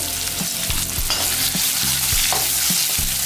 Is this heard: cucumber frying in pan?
yes